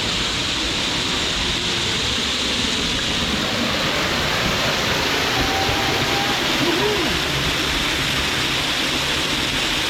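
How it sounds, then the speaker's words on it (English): Grotto Falls, a waterfall in the Smoky Mountains, pours in a steady, loud, continuous rushing roar heard up close, broadband and unbroken throughout. "You can walk behind the waterfall."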